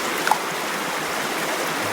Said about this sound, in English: It's our first river crossing.